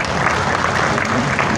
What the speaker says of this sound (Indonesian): Nah, ini tepuk tangan juga.